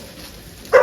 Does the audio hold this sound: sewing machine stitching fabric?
no